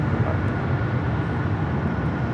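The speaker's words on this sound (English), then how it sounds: "JetBlue Flight 1224 taking off to JFK on the A321." A JetBlue Airbus A321 takes off from LAX, bound for JFK, a loud steady broadband jet roar with no breaks, heard alone.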